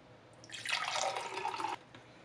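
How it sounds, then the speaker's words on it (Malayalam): Water poured into a glass for a grape lemonade drink gives a brief, faint splashing trickle lasting about a second before stopping. "ഇനി ഇതിനകത്ത് തണുത്ത വെള്ളം ഒഴിക്കണം. വേറെ ഗ്ലാസ്സിലോട്ട് ഒഴിക്കുന്നു."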